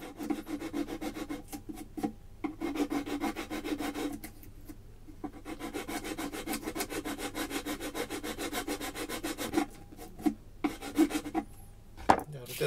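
Rhythmic rasping strokes as a file works the nut of a cheap plastic ukulele, repeated scraping passes close up with brief pauses between bursts.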